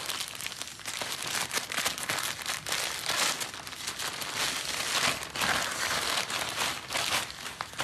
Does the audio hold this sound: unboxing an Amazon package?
yes